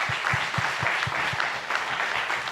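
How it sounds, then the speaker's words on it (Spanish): Audience applause at a book presentation, warm sustained clapping from a room full of people with a few rhythmic low thumps early on, steady and moderately loud throughout. "Un aplauso, por favor."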